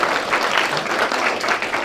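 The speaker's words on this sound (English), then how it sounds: "give him a round of applause" Brief burst of audience clapping for an event MC, a dense, close round of applause from a room of people.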